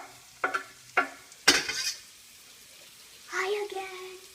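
Shallots and garlic sautéing in a pan for a mushroom duxelles, with a few sharp scraping stirs and spoon knocks, a brief hiss, and a soft sizzle near the end, close and moderately quiet.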